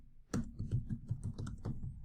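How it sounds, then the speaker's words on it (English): Keys clatter on a computer keyboard in a steady, quick run of close, crisp taps, the typing continuing without pause and with no voices. "then when we come in and start typing"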